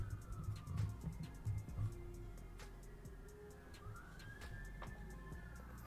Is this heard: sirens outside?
yes